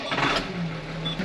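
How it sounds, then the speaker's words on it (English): Tractor pulling a harrow out of a hay shed: a steady low engine drone running close by for the whole moment, with no talk. "just moving this tractor and harrow out of the hay shed here"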